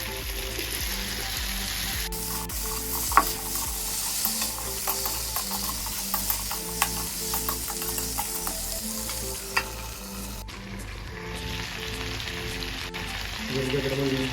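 Papaya and potato pieces being stir-fried in a pan for an Assamese-style chicken curry, with a steady sizzle under repeated scraping and clacking strokes of a spatula, close and fairly loud throughout.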